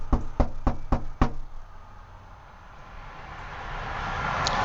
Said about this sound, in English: We can always knock.